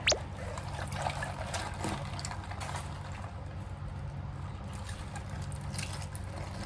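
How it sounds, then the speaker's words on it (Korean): Napa cabbage being washed in cold water for kimchi, with steady water sloshing and trickling close by, a brief splash at the start, and no talking. "찬물에 담가서 씻어주는 거예요."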